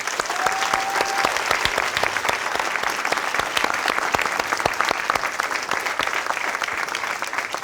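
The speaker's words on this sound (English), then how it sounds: "One more round of applause for them." Steady, loud applause from a sizable audience, dense clapping continuing evenly throughout with no pauses.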